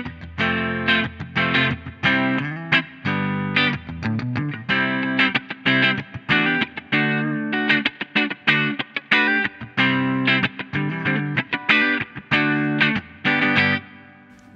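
Electric guitar played through a pedal-based preamp, power amp, cab simulator and reverb, a steady stream of chords and picked notes, loud and close, with no talking.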